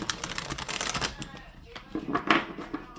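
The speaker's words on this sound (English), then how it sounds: "let's shuffle again and see what the second layer will bring" Tarot cards are shuffled in quick riffling bursts, a rapid papery flutter close by, followed by a few softer handling clicks.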